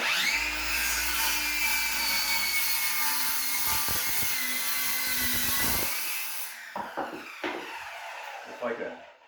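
A power saw cuts an excess piece off a wooden board, a loud, steady whining buzz that runs for about six seconds before stopping, followed by a few knocks and handling sounds nearby.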